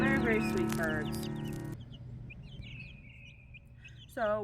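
Baby chicks peeping and cheeping nearby in a noisy, busy burst. Their calls are followed by a quieter stretch of scattered soft chirps.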